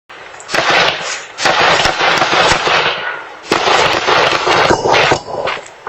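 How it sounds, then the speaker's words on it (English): Rapid, loud cracking bursts of more than ten gunshots go off in quick clusters, captured by a doorbell camera, with short pauses between volleys. "A Ring doorbell capturing the sound of more than 10 gunshots."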